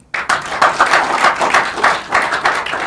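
A radio studio audience claps steadily for a Nigerian Senate chief whip, a loud, close burst of hand claps that begins abruptly and keeps a slightly uneven rhythmic pulse throughout, with no talking over it.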